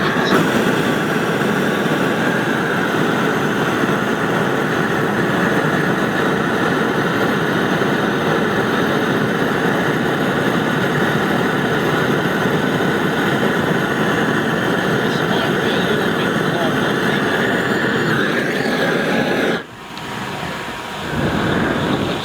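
A table-top waste oil burner roars steadily with more fuel, a loud, dense, continuous rushing drone that dips briefly near the end before resuming.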